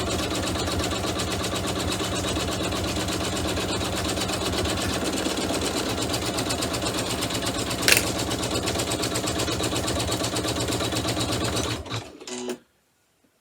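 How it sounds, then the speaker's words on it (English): An embroidery sewing machine stitches a pouch pattern with a steady, fast mechanical whir that runs continuously and close up, with one brief sharp click near the end before it stops abruptly. "I'm going to stop the machine, rip these stitches out, and see what the problem is"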